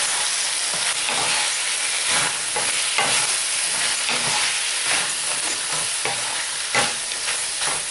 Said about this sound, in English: Coat all the fried mushroom properly with the sauces.